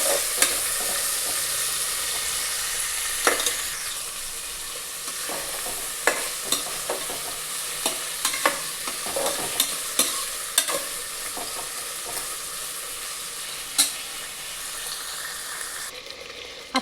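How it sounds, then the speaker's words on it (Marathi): Chopped onion for palak pulao fries and sizzles in a pan with a constant hiss, broken by irregular scraping taps as a spoon stirs it, close and without talk. "त्याला छान परतून घ्यायचं. कांदा छानपैकी ब्राऊन होऊ द्यायचा."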